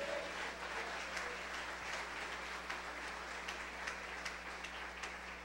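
Church congregation applauding during a sermon: a steady, fairly distant wash of many hands clapping, moderately quiet, with a low constant hum underneath and no talking.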